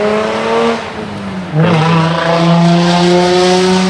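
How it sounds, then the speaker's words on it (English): A car engine revs loudly while the vehicle creeps along at about 20 miles an hour, a sustained throaty drone that dips briefly and then rises again in pitch and loudness. "he's going like 20 miles an hour and he's fucking revving it"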